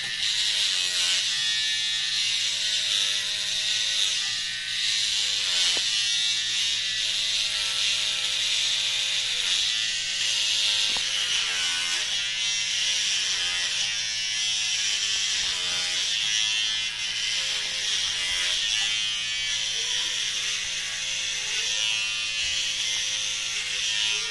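An electric hair clipper fitted with a 9 mm guard runs continuously during a home haircut, a close buzzing whir that rises and falls as it moves through hair in short strokes.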